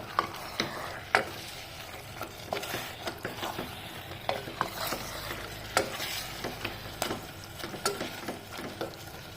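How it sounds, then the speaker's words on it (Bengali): Mutton sautéing in a pan over a raised gas flame for a Bengali mutton curry, a steady low sizzle broken by repeated scraping and stirring clicks of a spatula against the pan, close and moderately quiet. "এখন আমি মাটনটাকে প্রায় 15-20 মিনিট কষাতে হবে, ভালো করে কষাতে হবে।"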